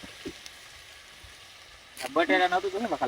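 Spice tempering sizzles in hot oil for Gujarati vaghareli khichdi, a soft steady sizzle that is soon covered by a person talking.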